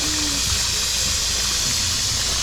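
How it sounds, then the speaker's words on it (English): Curry goat simmering in its own juice in a pot on a Jamaican food truck burner, a constant hissing, bubbling wash of sound, close and loud with no talk. "So right now this is cooking in its own juice right now."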